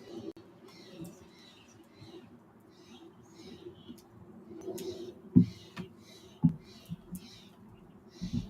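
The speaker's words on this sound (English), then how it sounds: "These birds is going ham, and I hope my noise suppression is helping to block them out." Birds calling outdoors, a string of short chirps and calls repeating through the stretch, moderately faint over a low background rumble with a couple of sharper knocks near the end.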